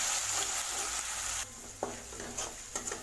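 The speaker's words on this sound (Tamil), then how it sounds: "சேர்த்துட்டு இதை நல்லா வதக்கி விடுங்க." Coarsely ground shallot paste and green chilies sauté in hot oil with a bright steady sizzle that drops in intensity midway, followed by a few spoon scrapes and taps against the pan.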